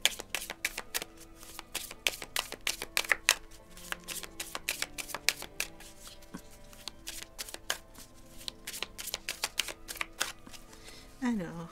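A deck of tarot cards is shuffled by hand for a reading, producing quick, crisp riffling flutters in rapid bursts that repeat steadily, close and fairly quiet, with no talking.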